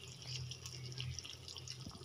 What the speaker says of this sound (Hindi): ये देखिए अब हमारा पानी जो है वो खोलने लग गया है